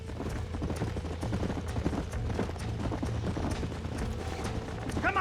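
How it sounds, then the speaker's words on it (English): Galloping horse hooves in the Red Dead Redemption video game make continuous, rapid clip-clop beats, close and loud over a noisy outdoor background. "There's the horses!"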